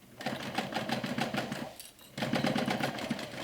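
A sewing machine backstitches a mini backpack in rapid rhythmic stitching bursts, briefly pausing and then resuming, close and steady with no talk.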